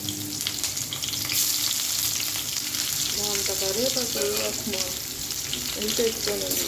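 Onion and garlic frying in a pan for a Telugu toor dal rasam, a steady, dense sizzle throughout, with a voice speaking over it in the second half.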